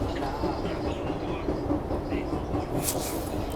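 A subway train running on rails, heard from inside the last car: a steady, dense rumble and rattle of wheels on track that holds loud and continuous throughout, with a brief brighter hiss near the end.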